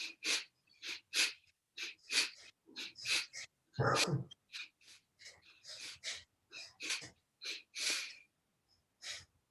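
Forceful rhythmic nasal breathing exercise, with about twenty short, sharp bursts of air through the nose in quick succession and one deeper, longer rush partway through, close and fairly loud, with no talking.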